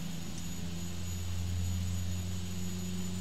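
Jet engines in X-Plane on a takeoff roll after brake release, a steady, loud whining roar with strong low tonal hums and a thin high whine, constant throughout with no voices.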